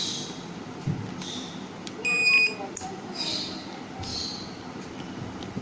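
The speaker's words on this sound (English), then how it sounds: "we can hear the buzzer" A multimeter's continuity buzzer gives one short, high electronic beep while a relay connection is tested, set against a faint background of room noise and distant activity.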